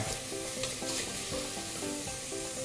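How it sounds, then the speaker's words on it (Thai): Mushrooms, onion and chopped fresh thyme and coriander stir-fried in a pan for a thick mushroom soup, a steady close sizzle broken by repeated scrapes and stirs of the spatula, no talking. "ตอนนี้เห็ดกับหอมใหญ่ นิ่มได้ที่แล้วนะครับ ใส่ ใบทามสดที่สับลงไป แล้วก็ใบกวานใส่ลงไป"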